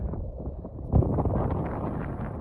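Strong wind buffets the microphone on a hilltop above a village in Ukraine, a steady low roar with a sharper gust about a second in, no voices.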